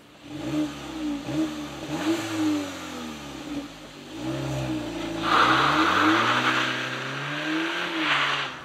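A 2022 facelifted VW Polo GTI engine accelerating and revving through several gear changes, a steady rising drone with clear shifts, loud and near, with no talk over it.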